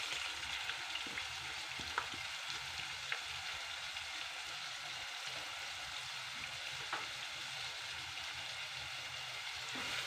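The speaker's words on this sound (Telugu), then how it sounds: "కలర్ మారే వరకు ఫ్రై చేయాలండి ఆల్రెడీ మనం పసుపు అల్లం ముందే వేసాము కదా పచ్చివాసన పోయే వరకు ఫ్రై చేయాలండి ఈ ఉల్లిపాయ ముక్కలని" Thinly sliced onions frying in a pan with turmeric and ginger, a continuous even sizzle with occasional light crackles and spatula taps, close and fairly soft throughout.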